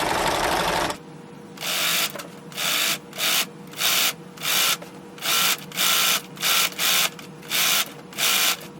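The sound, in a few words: sewing machine stitching a rolled hem on fabric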